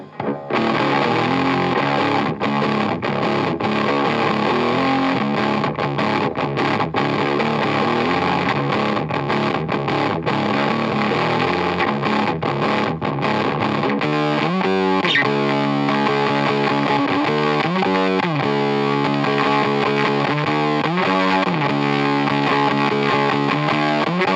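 Heavily fuzzed electric guitar through a budget fuzz pedal with the gain turned up plays a thick, saturated riff, loud and sustained, with chugging rhythmic stabs in the second half.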